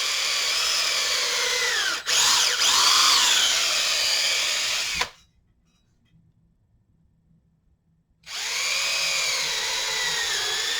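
Power drill with a 1/8 inch bit pre-drilling screw holes in a mallet head, a steady high whine running about five seconds, a pause of silence, then spinning up again.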